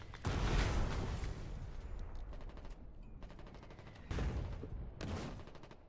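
Gunfire aimed at a tank in War 99, heavy automatic bursts with rapid repeated shots, a loud opening volley, a quieter stretch, then a second strong burst before tapering off.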